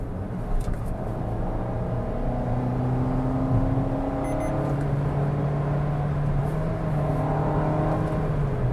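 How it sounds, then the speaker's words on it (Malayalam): Maruti Ignis AMT car engine, driven in fifth gear and blipped, hums steadily from inside the cabin. The pitch climbs and holds in a smooth, continuous drone over road rumble, with no voices. "ആ ഒരു എഞ്ചിൻ്റെ നോട്ട് കേട്ടില്ലേ?"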